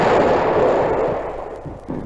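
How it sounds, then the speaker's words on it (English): Grenade explosions in a radio drama battle: one big, close, roaring blast that rumbles and slowly fades over about two seconds, with a small thump near the end. "Get down! Grenades!"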